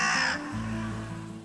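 A carrion crow gives a loud, close single caw, then a low ambient hum fills the rest of the moment without other calls.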